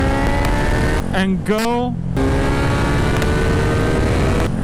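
A Kawasaki Z900 motorcycle engine drones loud and close throughout under throttle, with a steady, harmonic roar while a rider speaks briefly over it.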